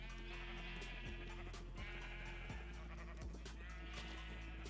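Sheep in Minecraft bleat repeatedly, several overlapping baa calls that rise and fall over a steady low background hum, close and fairly loud.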